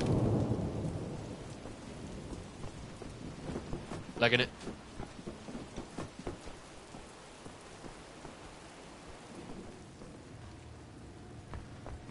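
Rain and rolling thunder in the Wolfenstein video game: a steady hiss of rainfall with a loud burst near the middle, while someone talks over it at moderate volume.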